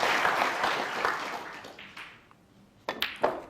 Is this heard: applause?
yes